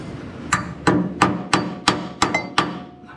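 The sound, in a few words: hammer knocking out a rivet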